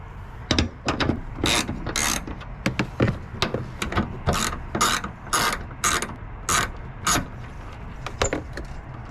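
Ratchet wrench loosening bolts while installing pod lights on a Ford F-150, with a steady run of close, crisp clicking bursts in quick irregular strokes, heard alone without talk.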